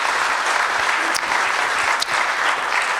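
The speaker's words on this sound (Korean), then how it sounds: "감사하다고 박수 한번 부탁드립니다" Dense, steady applause from an audience at a CEO forum fills the hall throughout, close and loud, with no talk over it.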